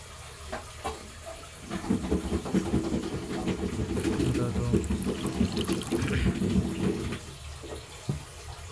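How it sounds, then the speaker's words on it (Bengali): Vinegar is poured into a pot while making a sweet, a splashing liquid pour that swells after the first seconds and runs steadily before tapering off, with faint background noises. "এই যে আমরা এখন ভিনেগারটা দিয়ে দিচ্ছি, এই যে ভিনেগার।"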